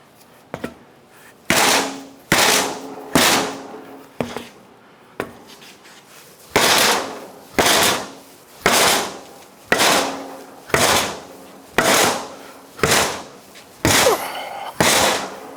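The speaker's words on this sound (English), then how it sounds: "Let's get out our soft blow hammer. See if we can finish knocking it down" A dozen sharp knocks from a soft blow hammer knocking a tire bead down on a Can-Am Outlander wheel, spaced about a second apart, each a crisp hit with a short ringing tail, close and fairly loud, with no talking.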